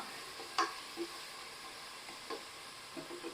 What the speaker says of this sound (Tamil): நல்லா வதக்கி எடுத்துக்குவோம் ஒரு பொன்னிறம் வர அளவுக்கு வதக்கிடலாம்